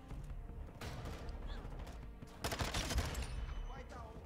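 Vaznev-9K SMG fires in Modern Warfare 2 in two rapid, loud bursts of automatic gunfire separated by a short pause, over faint game ambience.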